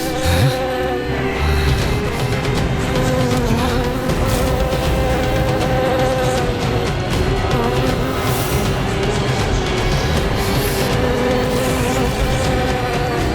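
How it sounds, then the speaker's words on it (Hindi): Countless insects buzz together in a loud, unbroken TV sound effect, a steady layered hum with shifting whines that carries on evenly from start to finish with no voices. "ये भिनभिनाहट जैसे असंख्य कीट एक साथ ध्वनि उत्पन्न कर रहे हैं"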